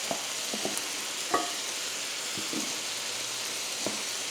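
Garlic sizzles in a pan of hot oil with cauliflower for a low-carb paella, a steady frying hiss broken by occasional stirring clinks and scrapes, close and moderately quiet.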